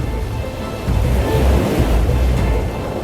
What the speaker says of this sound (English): The timid waves lapping over the passive shores